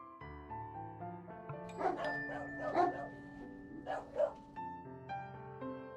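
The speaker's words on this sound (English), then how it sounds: "He notices dogs barking and follows the noise to one of the buildings." Several dogs bark in short clusters in the Sherlock Holmes game's Kitchen Lane scene, moderately near, over a soft sustained musical score.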